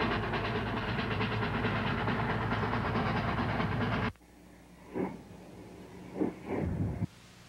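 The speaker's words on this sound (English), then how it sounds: "The engine runs light over Dallas Divide from Ridgway to pick up a stock train at Placerville and bring it back to Ridgway." A Rio Grande Southern steam locomotive runs light over Dallas Divide, a loud steady rumble with rhythmic chuffing that cuts off abruptly. A few short, quieter mechanical bursts follow.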